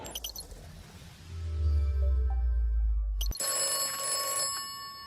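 A telephone rings sharply and loudly after a low rumbling passage, with a metallic bell-like trill that stays clear and close for the last couple of seconds.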